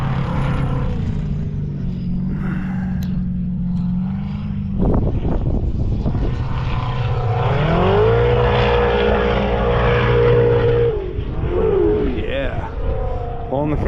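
A Can-Am Maverick R side-by-side holds its engine near full RPM while climbing the dunes at St. Anthony, a loud steady drone with a rising pitch. People talk over the engine.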